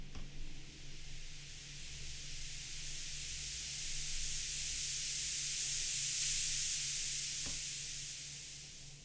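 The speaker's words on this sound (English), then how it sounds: "Then we have your typical, you have your white noise" A white noise layer in an electronic music track, a steady broad hiss that swells slowly and fades toward the end, with a low hum underneath and one faint click.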